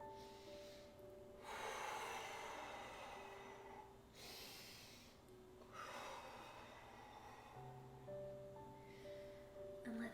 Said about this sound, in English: 2 deep breaths here.